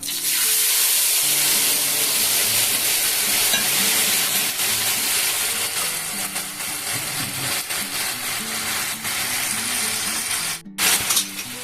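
Nigella seeds hit hot oil in a fish curry pan and give off a loud, continuous hissing sizzle with faint crackles and spatters throughout. The sizzle cuts out briefly near the end, and no one speaks.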